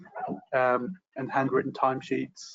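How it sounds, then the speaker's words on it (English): A pet dog barks and yips excitedly from the background in a few short bursts, mostly buried under a man's nearby speech. "There's a good chance you can hear my dog in the background going crazy."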